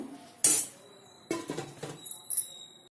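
Several metallic clinks and clatters of a lid being set on a pot of egg curry, with short quiet gaps between the knocks.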